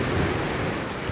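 Large Pacific Ocean waves pound the coast during a typhoon, a loud, continuous roar of surf mixed with heavy wind buffeting the microphone.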